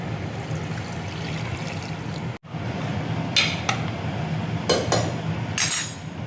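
Spiced water for a mutton curry poured into a pressure cooker, with light clinks of metal and a soft trickle in a quiet kitchen, and a few brighter clatters toward the end.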